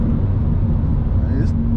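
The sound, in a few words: BMW M2 Competition engine sound heard inside the cabin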